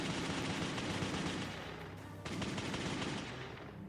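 Sustained heavy automatic gunfire from across a border in Kashmir, a dense continuous rattle of shots that dips briefly halfway through and then resumes, loud and heard without voices.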